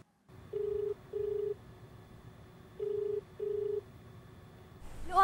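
A telephone keypad dialed for a call, four steady DTMF tone bursts in two pairs with short gaps, set over a low background hum, followed by a brief rustle at the end.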